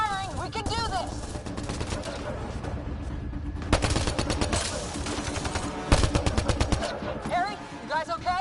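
Rapid gunfire bursts from the video game Mass Effect Andromeda, with dense automatic volleys and sharp single cracks that repeat through a busy firefight. Voices shout over the shooting throughout.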